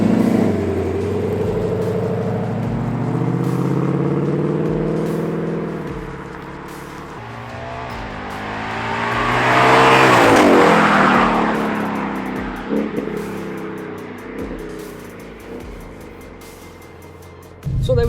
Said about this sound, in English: So let me do a few drive-bys and you can hear the sound of it.